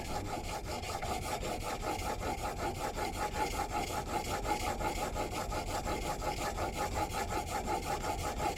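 Planer blade being sharpened by hand, a steady rhythmic rasping rub of steel stroked back and forth on a stone, closely heard, repeating about every half second throughout, with no voices.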